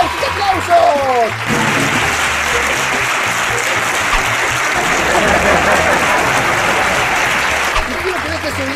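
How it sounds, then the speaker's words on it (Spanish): A voice calls out briefly, then a crowd breaks into sustained, loud applause that carries on steadily to the end. "¡Aplausos, aplausos!"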